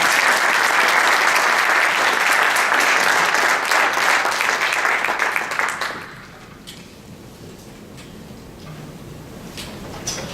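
Audience applause welcoming Professor Bob Nerem at an engineering and life sciences lecture, a sustained dense clapping that fades out after about six seconds into quiet room tone.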